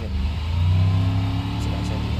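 A car engine in the BeamNG.drive driving game revs up briefly with a rising mid-pitched drone, then settles to a steady hum, heard alone.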